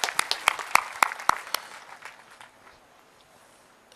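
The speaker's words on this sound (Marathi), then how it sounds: "टाळ्या वाजवा जोराने" Sharp claps from a workshop audience, several loud distinct strikes in the first second and a half that quickly thin out and fade into quiet room noise.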